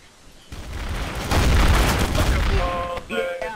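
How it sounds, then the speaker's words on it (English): Gunfire from Trouble in Terrorist Town builds into a dense, loud fusillade of rapid shots and booms, then cuts off abruptly. Brief voice chatter follows at the end. "why are you shooting me?"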